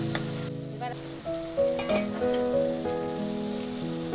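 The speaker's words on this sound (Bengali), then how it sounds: "এবার ভালো করে মশলাটা আমি কষিয়ে দিব।" Dry ground spices including cumin powder sizzle in a pan with a little water while being stirred and fried down for a shrimp and taro stolon curry; a steady, close crackling hiss with scraping stir sounds and intermittent tonal clinks, no talking.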